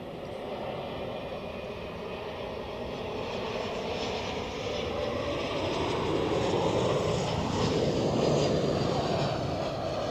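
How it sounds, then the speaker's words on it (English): An Air France Airbus A220 arriving from Paris lands at Zurich Airport, its jet engine roar rumbling steadily and swelling louder as it comes in, heard from a spotting position without any talk. "Next up, the Air France A220 from Paris."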